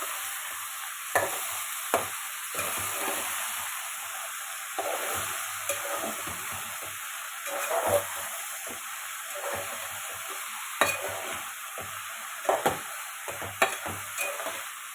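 Bottle gourd milk curry with onions, green chillies and tempering seeds being stirred in a hot pan, a steady close sizzle with irregular scraping stirs throughout, no talking.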